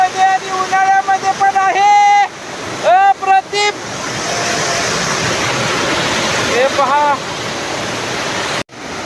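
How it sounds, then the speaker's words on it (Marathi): A steady, loud roar of a monsoon-season village waterfall in Konkan fills the scene, with a person talking over it near the start and again briefly later. "पहा आमच्या इथला धबधबा"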